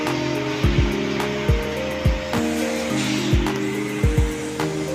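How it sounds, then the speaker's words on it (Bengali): A swimming pool heater machine runs with a steady mechanical hum and drone, broken by repeated low thumps and knocks at irregular intervals, loud and close with no voices. "এটা হলো আমাদের সুইমিং পুলে হিট মেশিন এটা দিয়ে দেন হিটার"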